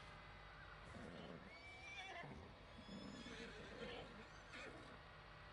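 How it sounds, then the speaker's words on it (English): Horse whinnies and neighs come from a tractor in an off-road video game, several calls rising over a faint bed of hooves and game noise. "My tractor is making horse sounds."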